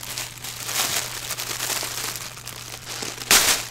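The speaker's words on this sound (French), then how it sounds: "Là on a du scotch qui se déchire" Crinkly tearing and rustling of adhesive tape up close as a subscription box is opened, with a sharper rip near the end over a low steady hum.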